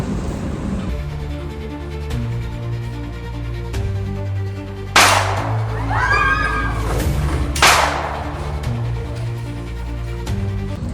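Two sharp, loud broadband bangs about two and a half seconds apart ring out during a university shooting caught on CCTV, over a steady low hum and murmuring background noise.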